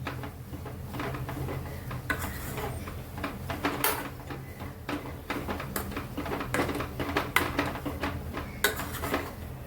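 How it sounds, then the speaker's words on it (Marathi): A spiced vegetable mixture is stirred in a pan, giving steady scraping and clinking of a spoon against metal for the whole stretch, with scattered sharper taps and a low continuous hum behind it. "चांगलं मिक्स करून घ्यायचं"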